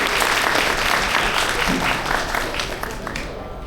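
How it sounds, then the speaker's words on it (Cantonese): A crowd claps at an inauguration ceremony for an automotive battery and tyre trade association, with dense, even applause that carries on for several seconds before thinning out. "我哋俾啲掌聲"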